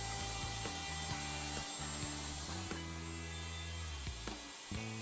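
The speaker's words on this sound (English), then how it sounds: "The socket board is routed by moving in and out of the template openings." A router cuts dovetail sockets in a wooden board guided by a jig. The motor whines steadily near the listener, with its tone dipping and changing briefly as the bit moves in and out of the cuts, and no voices are heard.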